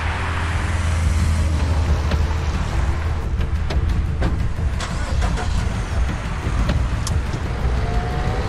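A car engine cranks and starts, then runs with a steady low rumble under broadband noise and a few sharp clicks, close and fairly loud throughout.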